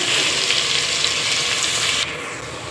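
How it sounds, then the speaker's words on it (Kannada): Vegetables coated in freshly ground masala fry in a pan for pulao, giving a steady, close, loud sizzle that stays continuous throughout and drops slightly near the end. "ಈಗ ಮತ್ತೊಂದು ಸತಿ ಎಲ್ಲ ತರಕಾರಿ ಫ್ರೈ ಮಾಡ್ಕೊಳಕತ್ತೀನಿ"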